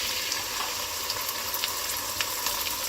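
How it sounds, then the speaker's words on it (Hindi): Ginger garlic paste frying in a pan with browned onions, giving a steady close hiss of sizzling oil broken by small crackles and pops. "अब मैं इसके अंदर डाल देती हूँ जिंजर गार्लिक पेस्ट, अदरक लहसुन का पेस्ट तकरीबन 1 टेबल स्पून।"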